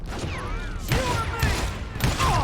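Gunfire in the Western shooter Call of Juarez: Gunslinger, three loud, spaced shots with rattling echoes over continuous game ambience.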